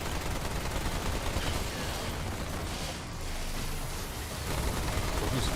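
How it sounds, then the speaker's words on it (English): Gunfire in Remnant II, a dense, continuous crackle of rapid shots filling the whole stretch at moderate level, with a brief dip midway. "Just started already firing at him"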